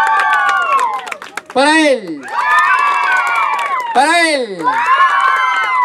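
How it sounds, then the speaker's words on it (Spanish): Festive afternoon crowd in Cantón Ciricuario shouts in bursts, with two loud bursts of cheering between stretches of sung, melodic voices. A voice chants short phrases. "Grito y aplauso si creen que ganó él."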